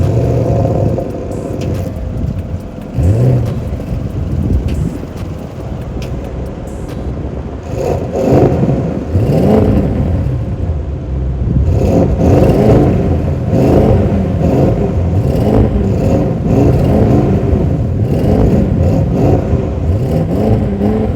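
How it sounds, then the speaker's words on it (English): Audi RS6 Avant and RS7 Sportback V8 twin-turbo engines revving in turn, loud close blips and sustained roars rising and falling over about twenty seconds with no talk. "now it's time for the V8 twin turbo rev off"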